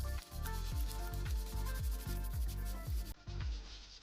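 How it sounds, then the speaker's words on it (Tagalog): Steady back-and-forth rubbing of sandpaper on plastic, about ten rhythmic strokes, close and clear. "Kailangang bahagyang lihain ang plastic gamit ang liha."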